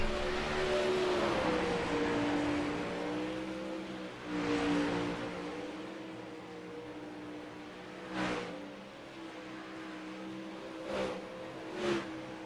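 Sprint cars on a dirt oval in a Dirt Slingers Series sprint race, engines droning and revving together at a steady distance, with a few sharper surges as cars pass closer, no talk.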